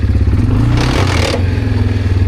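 Bashan 300 quad ATV hauling a 600 kg trailer over hills and slopes in low gear, its engine droning loud and close with a rattling clatter and a brief rougher surge midway.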